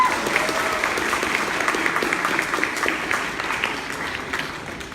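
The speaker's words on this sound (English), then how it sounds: "Let's give them a round of applause." Moderators at a debate get a round of applause, an audience clapping steadily and loudly for several seconds before it gradually thins out.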